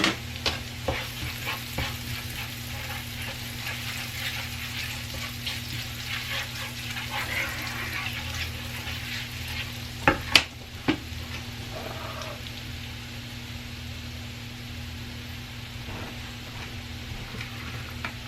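Butter sizzling in a frying pan, a steady close crackle with occasional scrapes and a couple of sharp clanks near the middle.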